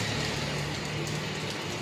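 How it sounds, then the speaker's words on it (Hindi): Heavy rain in Jammu falls as a steady, dense hiss with a faint low hum underneath, with no voices. "इस समय आप देख सकते हैं कि तेज़ बारिश जो है वो जम्मू में यहाँ पर हो रही है"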